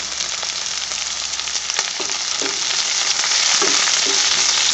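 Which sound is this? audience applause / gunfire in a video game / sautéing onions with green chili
sautéing onions with green chili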